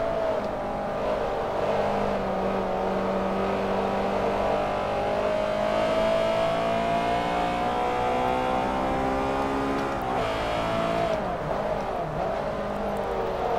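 Race cars from Forza Motorsport 3 roar through a lightweight sports car race, engines whining steadily and rising in pitch with a brief downshift dip near the end, loud and continuous with no talking.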